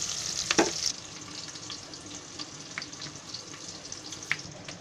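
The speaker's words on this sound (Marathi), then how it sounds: "हे कांदा भाजतोय." Onion frying in a pan for potato masala bhaat, a soft continuous sizzle with a few brief clinks and scrapes, fairly faint and with no talking.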